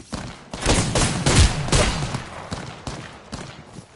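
Rapid bursts of gunfire from a shooter video game, loud and close, with dense volleys clustered in the first half before tapering into sparser shots.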